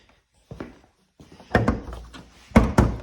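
Hood release latch on a 2015 Chevy Cruze pulled from inside the door area, giving a few close, short plastic-and-metal clunks and thunks in quick succession, with quiet pauses between them.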